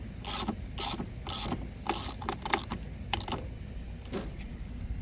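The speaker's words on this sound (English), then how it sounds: "Set the ratchet." A hand ratchet tightens a wheel nut on a Craftsman M110 riding mower, producing a series of close, crisp ratcheting clicks in irregular bursts over a low background hum.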